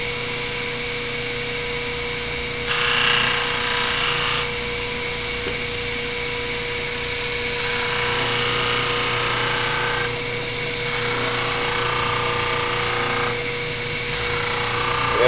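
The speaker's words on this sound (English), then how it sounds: "I'm going to hit it one more time in another direction with a little bit more compound on the wheel." A buffing wheel loaded with polishing compound working clear plastic in a machine shop, giving a steady motor hum with rising bursts of rough friction hiss each time the piece is pressed to the wheel, close and continuous.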